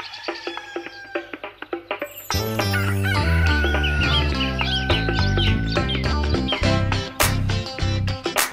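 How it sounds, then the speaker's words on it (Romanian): A rooster crow is woven into a children's song at a kindergarten stage performance. The repeated crowing calls ring out clearly over a steady musical accompaniment. "Cocoșelul meu isteț, cocoțat pe un coteț, face mare tărăboi, te răsună până la noi."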